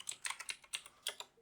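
Quick bursts of keystrokes on a computer keyboard enter a terminal command, about ten close, crisp clicks in an uneven rhythm, with no talking.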